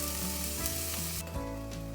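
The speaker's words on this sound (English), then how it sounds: "while the onions are cooking away" Onions frying in a pan sizzle steadily and crackle up close for a short stretch, with no talking.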